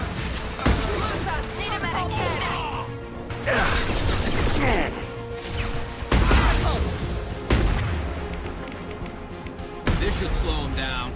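Suppressive gunfire in the Mass Effect 2 game, repeated bursts and sharp shots with mechanical clatter, loud and irregular, with voices talking between and over the firing.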